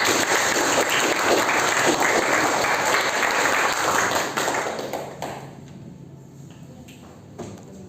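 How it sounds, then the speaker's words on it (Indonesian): Students in a classroom applaud a presenting group, a dense, steady burst of clapping that carries for about five seconds before quickly dying away into quiet room sound. "Terima kasih, tepuk tangan untuk kelompok 5."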